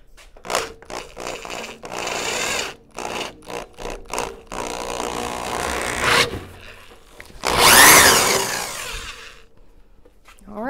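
A power drill spins a grain mill crushing malt for a wheat ale brew, running in loud whirring, grinding bursts that start and stop, with a longer sustained run near the end.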